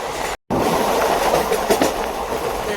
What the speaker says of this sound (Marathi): ही बघा आमची ट्रेन लागली आणि आम्ही आता उतरलो आहे नाशिक रोड स्टेशनला